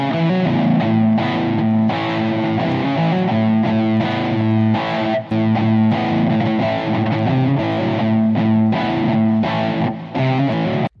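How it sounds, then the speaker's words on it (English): A driven electric guitar through an Orange Rockerverb amp sim on a Boss GT-100 plays a steady riff with crunchy distortion and a touch of chorus-like shimmer, strumming continuously with only brief gaps. "And an orange rock reverb amp."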